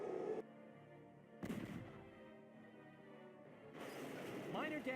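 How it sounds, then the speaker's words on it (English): Mortar fire in Valkyria Chronicles, a few heavy booming impacts separated by quieter stretches, low and rumbling against background game music and effects. "we'll see if I get hit by the mortar"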